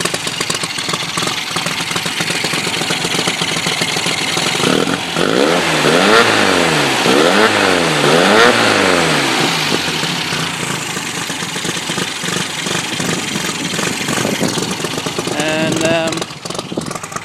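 A Volkswagen 1641 engine with a budget turbo idles with a rough, steady chug, revving up and settling back down midway; a voice speaks briefly near the end.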